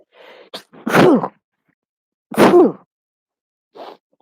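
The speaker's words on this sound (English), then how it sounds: "Hang on, I gotta sneeze." A single sharp sneeze bursts out, preceded by a quick sharp inhale and followed by a small sniff; close and fairly loud, no talking.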